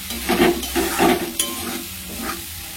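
Spice masala with potatoes, peas and paneer fries in a pan while being stirred, giving a loud close sizzle with rhythmic scraping pulses from the spatula.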